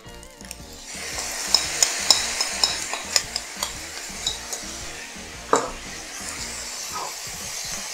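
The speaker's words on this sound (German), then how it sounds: "Ich brate ein bisschen noch weiter." Yakimeshi, Japanese fried rice, frying in a pan: a continuous sizzle broken by a rapid series of sharp spatula taps and scrapes against the pan, close and fairly loud.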